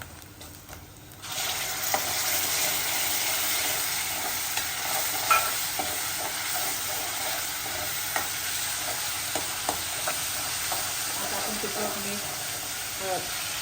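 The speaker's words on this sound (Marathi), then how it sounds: "आता आपण टोमॅटो प्युरी टाकून घेऊ आता" Tomato puree poured onto frying onions in a pan, bursting into a loud continuous sizzle and hiss with faint stirring clicks, close and steady throughout.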